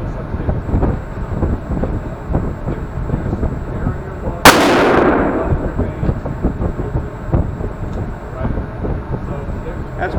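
A single loud rifle shot cracks out at an outdoor shooting range and rolls off in a long echoing tail, with people talking before and after it.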